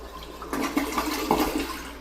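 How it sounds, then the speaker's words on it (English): A household toilet flushes with a rushing surge of water in the tank and bowl, a steady close-up gush lasting about two seconds after the tank was cleared of a toilet paper roll holder that had been blocking it. "We found a toilet paper roll holder in the tank, preventing the flushing from working very good."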